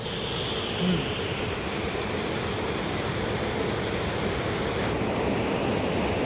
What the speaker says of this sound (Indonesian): Ini sungainya nih.